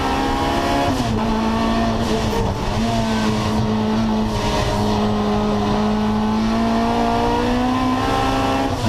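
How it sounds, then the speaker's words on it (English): Race cars lap Assen circuit during a 2013 Supercar Challenge round, including a Honda S2000. Engines drone loud and continuous with a steady, slightly wavering pitch, like cars passing at speed close to the track. "And Dennis de Borst keeping it nice and clean, defending against the faster Honda S2000"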